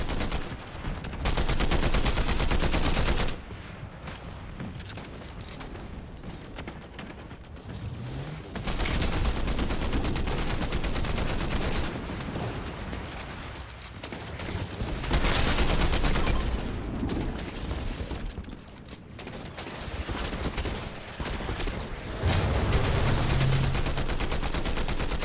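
Rapid bursts of game gunfire from Fortnite, including a slow Dr. Doom character being shot at, fill the whole stretch as dense, loud volleys with brief pauses, and no voice is heard over them.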